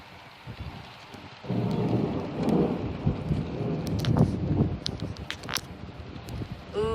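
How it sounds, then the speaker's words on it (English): Thunder rumbling through a heavy storm with rain and wind, a deep rolling roar building over steady rain patter and scattered drips, recorded from a parked car. "I can hear the thunder."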